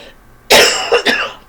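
A single loud, sharp cough bursts out after a quiet moment, followed by a couple of quick, rougher coughs trailing off close to the listener.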